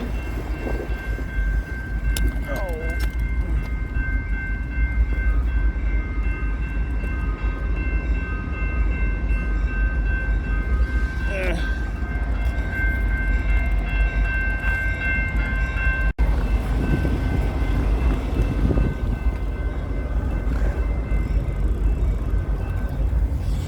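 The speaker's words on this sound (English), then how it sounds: "Oh no, a train crossing?" A train rumbles steadily past a crossing in Minneapolis, with a constant low roar, clattering wheels and a bell-like ringing tone, as a brief horn sounds in the distance.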